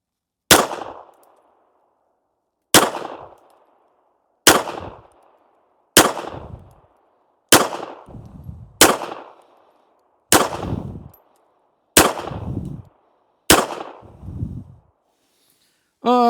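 A Smith & Wesson Bodyguard 2.0 .380 pistol fires Winchester Silver Tip rounds outdoors: ten loud, sharp shots spaced roughly one to two seconds apart, each with a short echoing decay.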